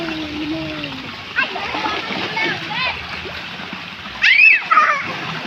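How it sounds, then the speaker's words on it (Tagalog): A small child splashes about while bathing, with scattered splatters and a couple of louder bursts near the end, and a voice and adult talk mixed in throughout. "Maligo ni Raika, oh"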